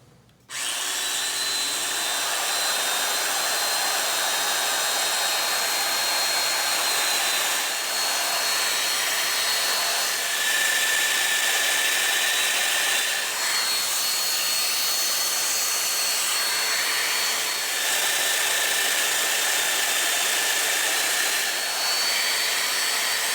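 A Festool Domino joiner plunge-cuts mortises 28 millimeters deep into the center of a 1-inch board, a steady loud motor whine running almost without a break, with slight shifts in pitch as each of the four plunges goes in.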